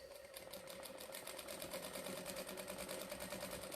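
A sewing machine running free motion quilting hums at a steady, fairly quiet level, its needle beating in a fast even rhythm throughout with no talking.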